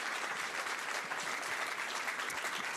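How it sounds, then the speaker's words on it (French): Dense audience applause at the Cannes festival for a film critic, a steady sustained roar of many hands clapping with no gaps across the short stretch. "Pour une fois où vous applaudissez un critique."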